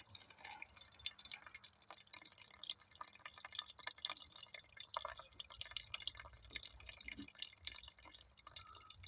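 Fuel drips and trickles as a motorcycle PWK carburetor drains, a very faint, irregular patter of small drops against low background noise, with no speech.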